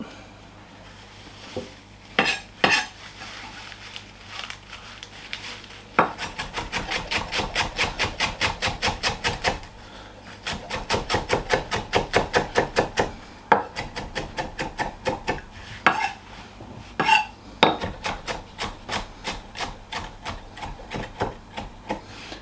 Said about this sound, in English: the rest I'm going to chop